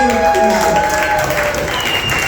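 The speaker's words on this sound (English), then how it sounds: "give yourself a round of applause" An audience at a stand-up comedy set applauds, a continuous wash of clapping heard close and fairly loud, with a voice and sustained tones riding over it early on.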